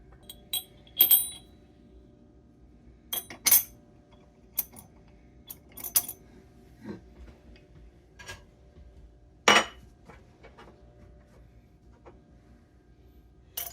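Metal grinder attachment parts for a KitchenAid mixer clink and clatter as they are fitted together, a scattering of sharp, close metallic knocks and taps separated by quiet pauses.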